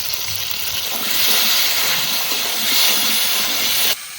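Ground spice paste of dried chili and cumin, with salt and green chili, hitting a hot pan over mango in a village kitchen, a loud, continuous close sizzle and hiss that stops abruptly near the end.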